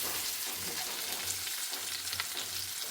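Semolina-crusted red snapper fries in a pan with a steady, dense sizzle and crackle of hot oil, close and continuous throughout.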